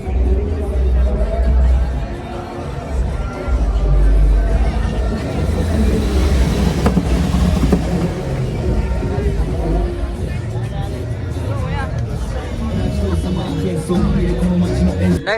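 Large crowd at an event in Goa, a dense continuous babble of many voices with engine rumble and occasional bangs, loud and near, with people talking close by throughout.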